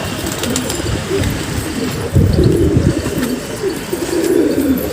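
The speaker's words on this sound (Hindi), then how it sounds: "तो दोस्तों अभी कबूतर वहाँ से वापस आ गए" Pigeons coo in low, throaty, repeated bursts close by, several overlapping calls rising over a murky background of rustling and room noise, with no speech.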